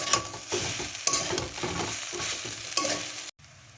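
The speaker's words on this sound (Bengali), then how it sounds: "এবার এর মধ্যে আমি সবজি ভাজিগুলো হাফ দিয়ে দেবো, দিয়ে নেড়ে দেবো" A utensil scrapes and stirs fried noodles and vegetables in a sizzling pan, in steady rhythmic strokes close up, with frying hiss throughout before an abrupt cut.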